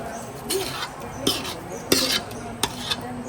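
A metal ladle scrapes and clanks against a pan as thick pav bhaji is stirred, with several distinct scraping strokes in an uneven rhythm, close and fairly loud, with no talk over them.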